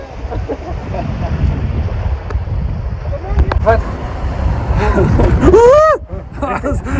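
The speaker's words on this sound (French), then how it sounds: "Oh, le coup de vent là." Wind on a beach in Sicily buffets the microphone in a strong rumbling gust, with a person talking throughout and a brief whistling tone near the end.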